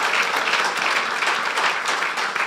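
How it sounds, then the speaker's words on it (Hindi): A church congregation claps loudly and continuously throughout, a dense, even wash of applause with no voices over it. "यीशु के जलाल के लिए जोरदार तालियां बजा दें।"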